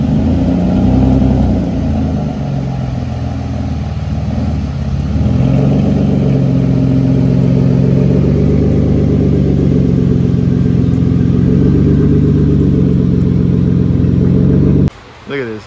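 A manual-swapped 7th-gen Nissan Maxima with a new ISR exhaust idles and revs nearby in a steady, loud, rumbling drone that rises and settles, cutting off abruptly near the end, with someone talking over part of it.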